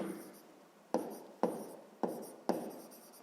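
Pen or pencil writing out a sixth-grade math solution on paper, with four distinct strokes or taps and scratchy scribbling between them, close and quiet with no talk.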